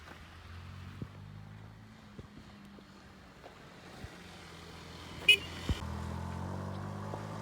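A Massey Ferguson 135 tractor engine chugs with a low, steady hum in the background while irrigating a silage corn field, with occasional knocks and a brief rattle near the end.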